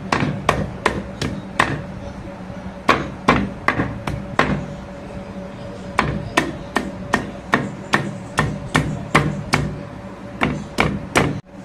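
Green mangoes being crushed for a mango mash, with steady, forceful pounding thuds repeating in quick rhythmic bursts throughout, close and loud, with no voices.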